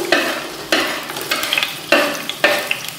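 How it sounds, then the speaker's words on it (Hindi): Onions drop into hot oil in a pan for achari pulao and are stirred, giving repeated scraping bursts over a continuous frying sizzle, close and fairly loud, with no one speaking. "प्याज को अच्छी तरह ब्राउन करेंगे हम।"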